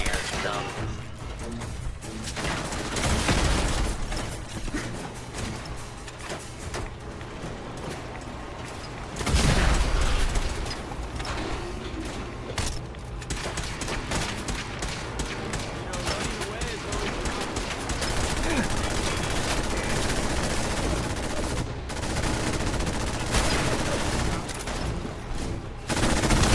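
Rapid bursts of gunfire in the video game Fallout 4, dense crackling volleys and booms coming in clusters throughout, with voices talking among the shots.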